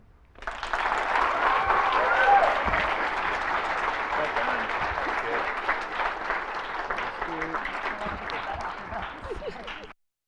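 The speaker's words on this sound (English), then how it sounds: "Let's give one more big round of applause" An audience at a university speech showcase claps steadily for about ten seconds, dense and fairly loud, then the clapping stops abruptly.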